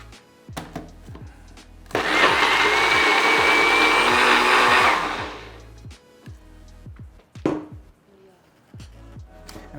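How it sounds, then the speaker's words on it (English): Blender purees grilled onions into a smooth sauce, a loud steady whir that runs for about three seconds and then winds down, set among soft kitchen clatter and knocks. "let's drop the grilled onions into the blender cup here, and we're just gonna puree this until it is nice and smooth"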